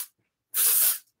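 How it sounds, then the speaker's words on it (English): Undone Texture Spray from Amika hisses out of an aerosol can onto hair in two quick bursts, a short puff followed by a longer, louder half-second spray, close to the microphone. "we're going to use Undone Texture Spray."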